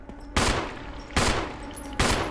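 Three loud, sharp gunshot bursts in the video game Resident Evil HD Remaster, spaced about a second apart, each with a broadband crack and brief decay, over a steady low background hum.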